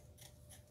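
Scissors cutting fabric for a baby romper sleeve, two quick soft snips in close succession, faint and near, over a low background hum.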